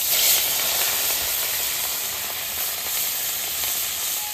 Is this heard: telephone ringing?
no